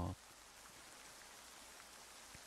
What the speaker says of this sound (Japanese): 雨降ってら